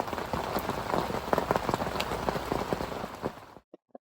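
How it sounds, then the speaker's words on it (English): Heavy downpour drumming steadily on a fishing shelter and ground sheet at a carp lake, dense and loud throughout, then cutting off to near silence with a couple of last drips. "that was a downpour and a half"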